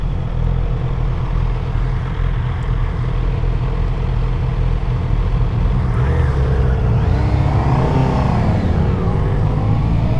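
A 2025 Honda CB650R motorcycle with E-Clutch pulls hard through the gears, its engine a loud, steady drone that climbs in pitch near the end, with wind noise throughout and no talking.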